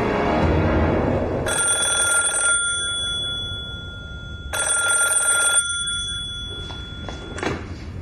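Two bursts of an old-style telephone bell ring in a period spy-drama interior, each about a second long with a steady tone, loud against low room background and a faint thump near the end.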